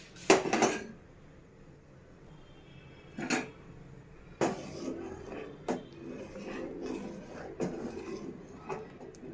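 A spoon scrapes and knocks against a pot while ragi flour porridge is stirred, giving sharp intermittent clacks and softer rubbing between them, fairly quiet, with no voices.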